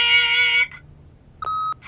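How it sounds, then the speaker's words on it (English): An answering machine in a PS4 video game gives a high tonal electronic beep, a short pause, then a second, lower steady tone, both clean and close. "leave a message at the beep"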